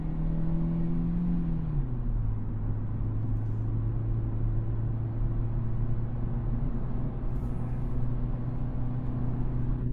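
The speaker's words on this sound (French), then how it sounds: "Vous entendez maintenant comment ça change de vitesse?" A 2025 Kia Picanto GT Line climbing a winding mountain road, engine hum dropping in pitch as the gearbox shifts early on, then a steady drone of engine and road rumble from inside the cabin.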